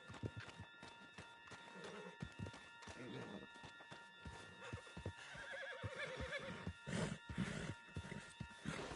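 A horse whinnies and hooves clip-clop at a run, with someone talking over the galloping in a scene from the game Red Dead.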